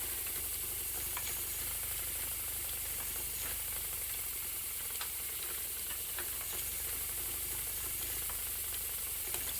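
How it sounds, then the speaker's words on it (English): A spinning wheel turning as yarn is spun, producing a steady soft mechanical clicking and whirring with a faint hiss underneath, continuous and quiet. "listen to the relaxing sound of my spinning wheel."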